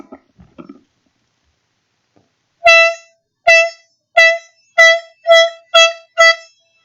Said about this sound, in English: I gotta sound the air horn 7 times.